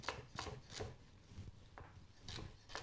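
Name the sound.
chopping vegetables with a knife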